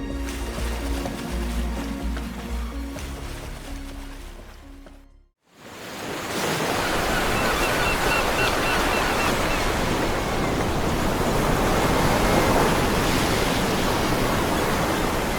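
Ocean surf rolls in a steady, loud roar of breaking waves. The wash builds after a brief quiet gap and continues without pause to the end, with no voices over it.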